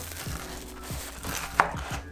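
A knife cuts through a crispy pan-grilled cheese sandwich, giving several close, crunchy rasping strokes at a steady rhythm, with one sharper crackle partway through.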